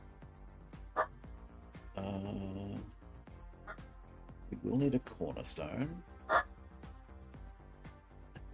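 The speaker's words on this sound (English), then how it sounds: "That's my sister's dog barking her head off." A pet dog barks in short, sharp bursts in another room while someone talks nearby, the yaps scattered and fairly faint under his voice.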